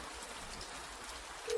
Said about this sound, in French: Il pleut tellement fort.